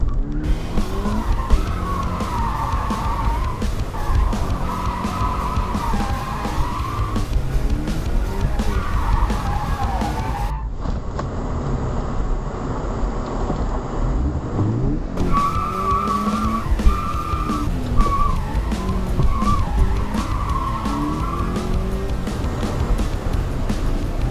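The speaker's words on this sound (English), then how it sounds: "these drifts aren't actually that good" Toyota 86 drifting on a track, engine roaring with tire squeal and skidding throughout, loud and close, with a brief quieter gap partway through and music-like tonal bands over it.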